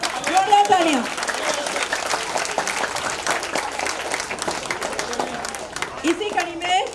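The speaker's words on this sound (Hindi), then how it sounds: "जोरदार तालियां।" A hall of retired bank officers at an association gathering breaks into sustained, lively applause, a steady dense clatter of hands, with voices speaking over it at the start and again at the end.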